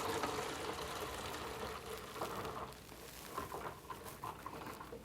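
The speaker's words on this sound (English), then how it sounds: "I just use a regular milk jug in my funnel, and I just pour it in here." Barley milk pours through a funnel into a regular milk jug, a continuous close trickle and patter of liquid with small gurgles and splashes that thin out slightly toward the end.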